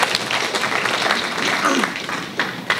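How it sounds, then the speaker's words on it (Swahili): An audience of artists applauds at a Tanzanian government event addressed by the Prime Minister, with dense clapping throughout and a voice speaking over it. "Tujipongeze wenyewe kwa makofi mengi"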